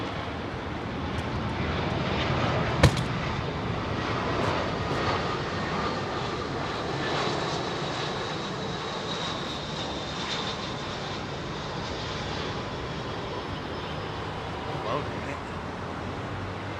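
Airbus A380 of Emirates departing London Heathrow runway 27R, a broad steady jet engine roar filling the air at close range with a faint whine above, while people talk intermittently over it.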